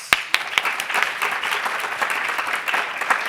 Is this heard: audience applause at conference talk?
yes